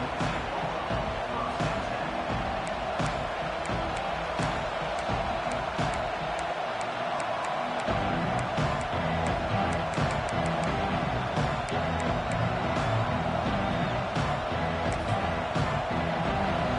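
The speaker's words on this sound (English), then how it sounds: "This crowd trying to make life miserable for this offense." A football stadium crowd keeps up a dense, continuous roar against the offense, loud and unbroken for the whole stretch, with occasional sharp knocks rising above the din.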